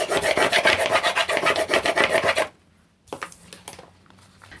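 Rapid rhythmic rasping as a hand rubs the back of a glued watercolour card die cut, loud and close, then a pause followed by a few lighter scrapes.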